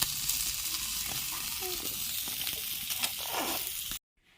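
Fish fries on a dosa griddle over a wood-fired stove, a dense crackling sizzle held steady and close, with a few scraping touches, before cutting off abruptly into near silence.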